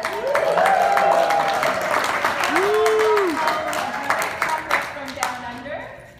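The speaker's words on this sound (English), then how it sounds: "Please give him a round of applause" An audience at a small business panel event applauds the moderator, loud continuous clapping with some whoops and voices, fading into scattered claps toward the end.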